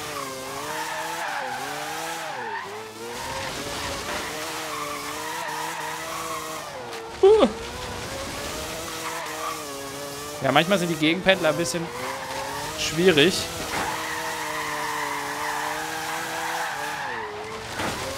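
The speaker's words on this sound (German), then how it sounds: "aber hey, wir bremsen nicht. Wir fahren quer." Car drifting sideways in Forza Horizon 3, tires squealing and skidding continuously over a revving race engine, with several sharper screeches; someone talks over the sound throughout.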